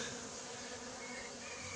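A honeybee swarm being collected in Soignolles-en-Brie buzzes steadily and loudly in a dense, continuous drone, with no voices.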